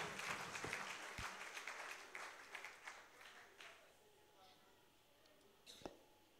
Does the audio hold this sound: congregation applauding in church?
yes